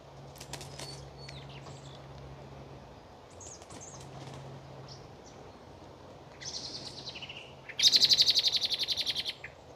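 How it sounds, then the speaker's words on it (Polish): Small birds chirp and twitter intermittently in a hazel tree over a steady outdoor background, with a brief burst of wing flapping and louder chirps near the end. "Ptaszki już zaczynają swoje gody."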